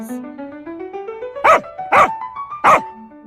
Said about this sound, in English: What the dog says.